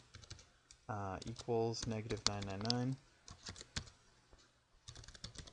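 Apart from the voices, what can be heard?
typing code on a computer keyboard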